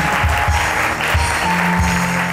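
Applause from a studio audience on a Hindi weekend comedy show, a continuous spread of clapping with a few low thumps beneath, carrying on steadily with no talking.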